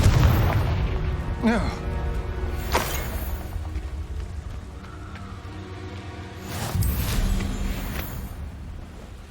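A Confringo blast spell from the Hogwarts Legacy video game bursts in a couple of sharp booming explosions amid game effects and character voices.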